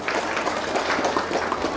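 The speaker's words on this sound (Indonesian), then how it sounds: "Tepuk tangan untuk Ibu Camat ini." Audience at a Nahdlatul Ulama centenary gathering gives a short burst of steady, moderately loud applause, with no talk over it.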